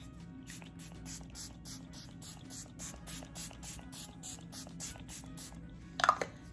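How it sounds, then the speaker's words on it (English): Face mist spray bottle pumped close to the face, a rapid series of short, crisp hissing spritzes in an even rhythm, near and fairly soft, followed by a brief louder clatter at the end. "I'm gonna spray my face again."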